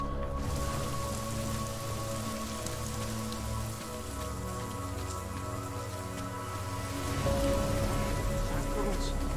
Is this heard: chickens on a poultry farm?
no